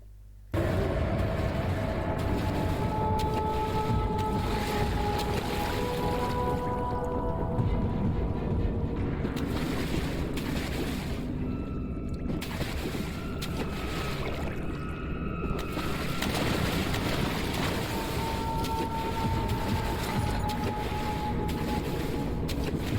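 Ambient sound from the Amnesia video game as the player steps into water, a continuous dark drone with low rumbling and drawn-out tonal notes, holding loud and unbroken for the whole stretch.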